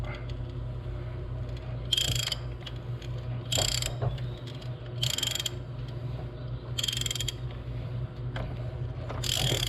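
A ratchet works on a spark plug in a 2006 Jeep Liberty 3.7L, giving bursts of quick clicking every second or so over a steady low hum, close and fairly quiet.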